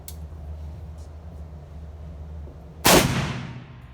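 A single loud, close gunshot from a Shiloh Sharps rifle firing full-power 45-70 Government ammunition, a sharp blast late in the clip followed by a long fading rumble over quiet background.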